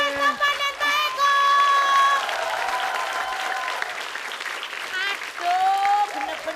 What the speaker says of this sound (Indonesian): Tepuk tangan untuk Oke. Mas Tesi, Mas Topan, dan Mbak Eko